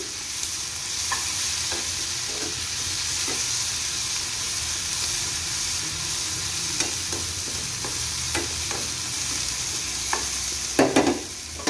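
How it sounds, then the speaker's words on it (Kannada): Turmeric and salt fry in a tempering for mango rice (mavinakai chitranna), giving a loud, steady sizzle throughout, broken by occasional sharp scrapes and clinks of stirring near the end. No one talks. "ಸರಿ ಹೋಗಂಗೆ ಫ್ರೈ ಮಾಡ್ಕೊಂಡ್ರೆ ಚೆನ್ನಾಗಿರುತ್ತೆ."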